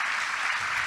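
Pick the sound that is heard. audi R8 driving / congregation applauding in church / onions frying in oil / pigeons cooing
congregation applauding in church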